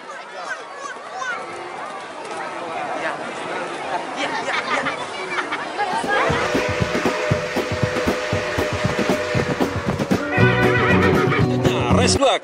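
Racehorses in a 1200-metre race at a Bukittinggi track run under a loud crowd, with a commentator talking over rising hoofbeats and an excited crowd roar.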